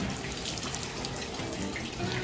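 Water poured from a bucket and dipper over a Yamaha Aerox V3 scooter with a graphene ceramic coating, splashing in a continuous, close pouring rush with no talk.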